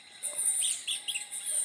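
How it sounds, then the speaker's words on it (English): Bird singing at dawn from a guango tree in the hills of Jamaica: a few high, thin whistled phrases in quick bursts, fairly clear and close against a quiet background, with no talking. "And this is the sound of our bird in the hills."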